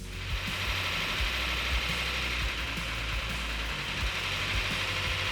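Car engine with a cast iron block saved through welding repair, idling steadily on its first run to operating temperature; a continuous, even, low mechanical rumble with faint ticking, close and alone with no talk.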